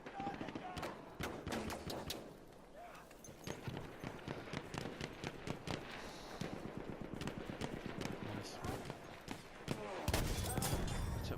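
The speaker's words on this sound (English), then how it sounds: "Took my time, aimed at him, at his head as well, got a headshot off him." Gunfire in Battlefield 1 crackles through a busy battle soundscape of repeated shots and distant fusillades, with a sharp louder report near the end and someone talking over it.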